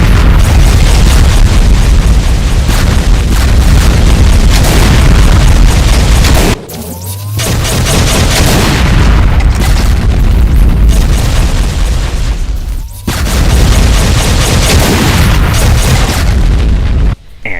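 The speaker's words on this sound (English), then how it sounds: "a seemingly endless volley of round BFG shots," BFG shots exploding in the Doom mod Complex Clusterf___, a loud dense barrage of booming blasts in rapid succession, broken by two brief drops before the explosions resume.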